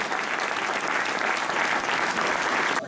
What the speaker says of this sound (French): applaudissements pour ces dames et ces messieurs